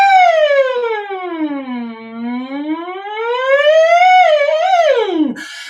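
Show choir voices imitate a siren during a warm-up, a loud, sustained tone gliding smoothly down and then back up before dropping sharply at the end.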